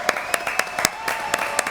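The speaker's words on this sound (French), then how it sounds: "Elle est là, Candy, on l'applaudit?" A small audience claps in a steady, rhythmic beat of sharp, evenly spaced hand claps for Candy, a 16-year-old performer, with a faint murmur of voices beneath.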